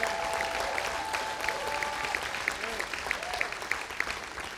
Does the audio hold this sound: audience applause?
yes